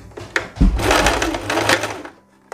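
A sewing machine stitching a chemise with a collar and pocket, a short loud whirring burst of needle strokes after a couple of faint clicks, then stopping.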